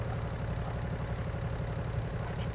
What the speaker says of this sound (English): I'm still here with the Aprilia Mana here, enjoying a nice ride.